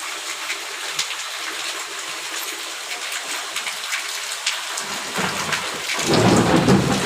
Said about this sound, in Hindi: आज देखो शाम के टाइम पानी गिरा